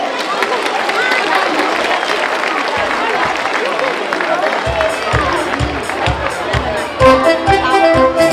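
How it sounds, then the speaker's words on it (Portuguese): Audience at a school song festival breaking into dense, sustained clapping and cheering from a crowd, loud and close, with voices mixed in and music starting near the end. "Palmas, por favor."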